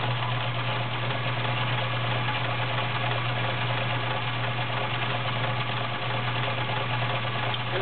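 Vintage 1970s Kenmore model 1560 convertible sewing machine running a stretch stitch, a steady close motor hum with a fine continuous mechanical buzz and no talking.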